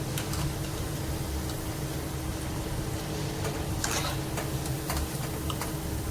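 Crab-shaped bhaji, a Sinhagad-style onion fritter, deep frying in hot oil, giving a steady continuous bubbling sizzle with scattered crackles and pops, close and moderately loud with no talk.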